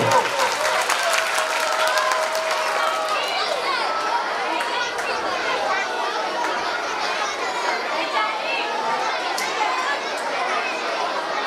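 Audience applause swells in response to a call to honour a distinguished guest at a school-style programme, steady and sustained throughout with crowd chatter and children's voices mixed in beneath.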